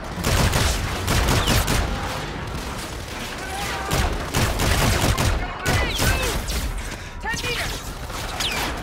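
Rapid bursts of gunfire from the Call of Duty: Infinite Warfare campaign crackle almost nonstop, with a dense, loud rattle and occasional louder reports, while a person talks over the action.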